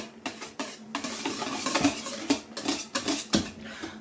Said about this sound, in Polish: Musimy naprawdę dokładnie wymieszać, bo tylko wtedy nam się dobrze zsiądzie nasz sernik.